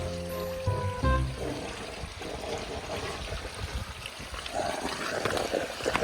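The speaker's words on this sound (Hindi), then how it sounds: "हाँ ठंडा ठंडा कूल कूल पानी से नहाना चाहिए।" Cold water pours and splashes in an irregular trickle as someone bathes outdoors, nearby and moderately loud, after a brief tonal sound at the start.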